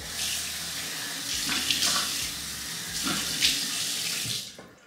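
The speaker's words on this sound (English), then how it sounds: "So I basically just rinse my face with cold water." Cold tap water runs steadily into a sink while splashing sounds come in uneven bursts, like hands scooping water onto a face.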